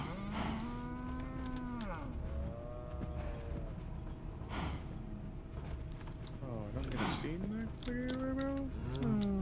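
Minecraft cows and other farm animals mooing and bleating in a Pixelmon modpack pen, repeated overlapping calls every second or two, with players talking throughout.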